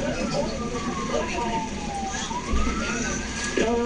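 Ambulance siren wailing in rising and falling sweeps amid a crowded street scene during a hostage crisis at Quirino Grandstand in the Philippines, heard under voices with traffic noise.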